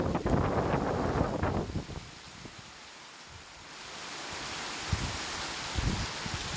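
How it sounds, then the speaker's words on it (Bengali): Gusting wind buffets the microphone in loud, rumbling bursts while rain hisses steadily underneath during a sudden outdoor downpour. "যেমন বৃষ্টি তেমন বাতাস।"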